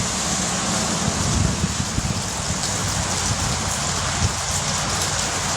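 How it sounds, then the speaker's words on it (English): Steady rain falling outdoors, a dense continuous hiss of drops hitting surfaces with some wind rumble underneath, loud and close throughout. "Hopefully this rain just passes us quick."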